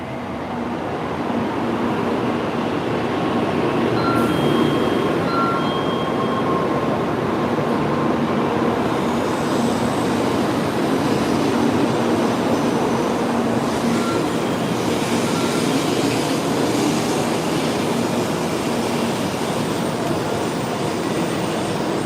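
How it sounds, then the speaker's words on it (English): A Shinkansen bullet train rolls into Shizuoka Station with a loud, continuous, even rumble and roar that holds steady for over twenty seconds, with no voices over it. "you just have to let it ride as the Shinkansen rolls in"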